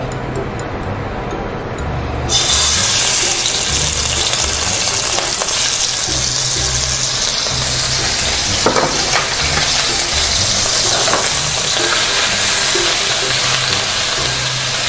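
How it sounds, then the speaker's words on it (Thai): Guilin chilli sauce stir-fried in a pan, a loud close sizzle that jumps up as the sauce goes in, then a steady frying hiss with scraping and clicking from stirring. "ซอสพริกกุยหลิน เอาไปผัดให้หอมเลย"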